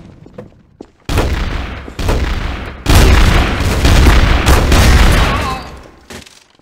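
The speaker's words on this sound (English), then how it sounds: "he started shooting first" Loud bursts of gunfire in Garry's Mod TTT, rapid sustained volleys with short gaps, dense and close, ending in a long continuous burst that tapers off.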